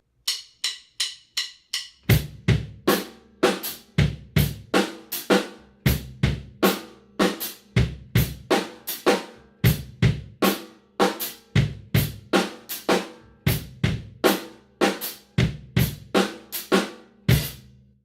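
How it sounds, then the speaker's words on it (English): Drum kit grooving in a five meter with the hi-hat cut back to quarter notes. A few lone hi-hat clicks open it, then kick, snare and cymbal hits keep a steady, dense pulse, close and loud with no speech. "Next, we're going to reduce the hi-hat to just a quarter note."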